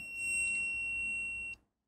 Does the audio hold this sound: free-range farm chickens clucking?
no